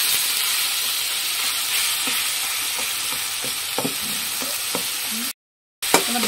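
Tomato chutney sizzles steadily in a pan with a constant frying hiss, while a spoon scrapes and taps in several soft stirring strokes, followed by a brief cutout and a single knock.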